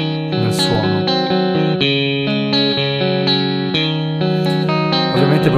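Re-amped electric guitar run through a Twin Reverb amp simulation, playing sustained chords and melodic lines with a lush, chorused and slightly distorted tone and wet reverb, loud and continuous with no talking.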